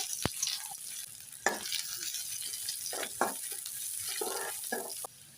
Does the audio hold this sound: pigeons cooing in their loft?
no